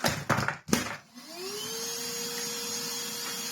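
A Miele S6000 Cat & Dog vacuum cleaner is switched on after a few handling clatters, its motor rising in pitch and settling into a steady, close whine.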